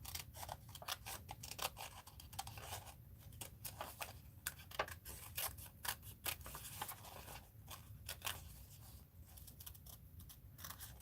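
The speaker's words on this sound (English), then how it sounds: "I'm cutting out the pieces to make another collage" Scissors snipping pieces out of a collage photograph for a mixed-media art journal, a quick irregular run of small close crisp cuts and clicks continuing throughout, no talk.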